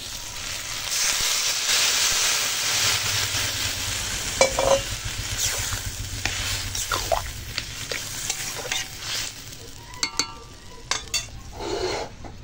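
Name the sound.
water added to sizzling spiced vegetables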